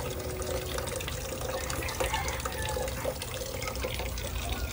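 A thin stream of water trickles from a tap with a soft, continuous splashing and gurgle, steady and fairly quiet throughout.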